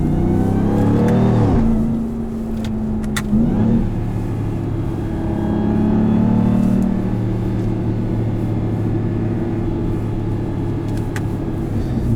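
A 2022 Ram 1500 TRX pickup with pulleys and a resonator delete accelerates, its engine rising in a loud, steady revving rumble that builds, dips briefly, then holds a deep drone heard from inside the cab.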